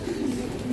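Racing pigeons coo in a low, soft, continuous murmur close by, a brief burst with no talking.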